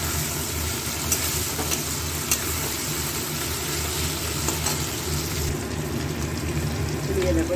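Cabbage with turmeric and Kashmiri chilli powder frying in a pan, giving a steady close sizzle with light stirring scrapes throughout, fairly even in loudness from start to finish.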